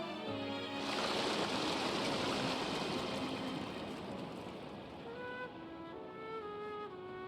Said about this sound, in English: Look, all the water is draining through the sewers.